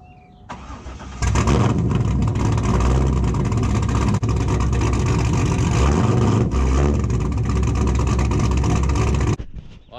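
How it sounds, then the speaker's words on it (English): A car engine cold-starts early in the morning: a short crank, then it catches and settles into a loud, steady, rough idle that keeps droning close by for several seconds before cutting off. "Do a little cold start for you guys."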